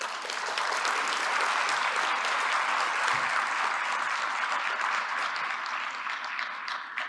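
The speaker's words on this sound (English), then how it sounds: "Let's give them a round of applause" Sustained, dense applause from a large audience at a legal profession plenary session, steady and even for the whole stretch with no voices standing out.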